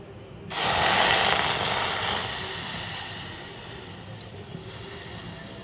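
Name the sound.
milk poured into hot pan of roasted grains, hissing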